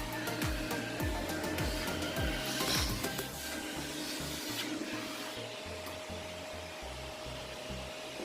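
Vacuum cleaner sucking crud out of the bottom of a thrift-store wooden magazine holder before painting, a steady close whooshing drone with scraping knocks and bumps from the nozzle against the wood.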